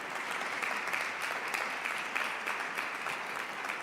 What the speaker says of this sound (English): give Sister Sandra and her crew a huge round of applause